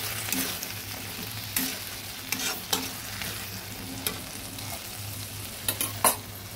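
Boiled chickpeas fry in a pan with spices, a steady sizzle broken by repeated scraping stirs and clacks of a spoon against the pan.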